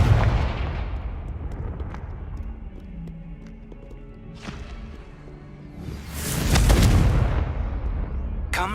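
Fiery Confringo spell blasts in the game Hogwarts Legacy, loud whooshing explosive bursts with booming impacts, one early and a larger prolonged blast near the end, over clopping hooves and a low game soundscape.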